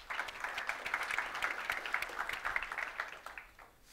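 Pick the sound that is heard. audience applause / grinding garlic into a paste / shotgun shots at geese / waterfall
audience applause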